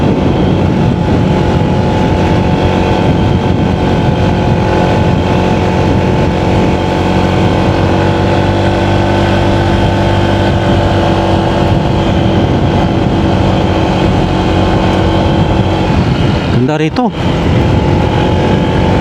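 A small motorcycle, such as a Mio or Honda Click scooter, rides steadily along a rural road after two river crossings, its engine a loud continuous drone close by, with a brief disturbance near the end.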